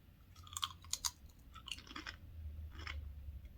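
Crunchy chewing of a light, flaky, butter-flavoured chip from Poland, with a few sharp bites early on followed by steadier close-up munching, no talking.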